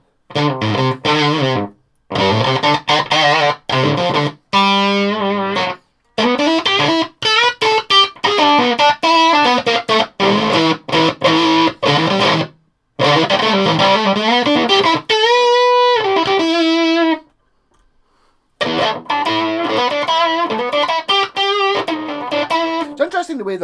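An electric guitar plays through a Walrus Audio Eons Five State fuzz pedal, heavily distorted chords and riffs in bursts separated by short gaps, loud and close with no talking.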